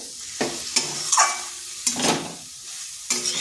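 Spice masala of Kashmiri chili powder and a pinch of sugar frying in a pan for a cauliflower-stalk dish, with a few loud scraping stirs spaced over a low sizzle, close by.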